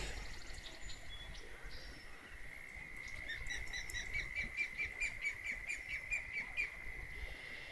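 A bird in Fishing Planet's Everglades calls over a steady insect and frog chorus, its shrill, repeated chirps growing into a rhythmic string of bright notes in the latter half, fairly close and clear, with no talking.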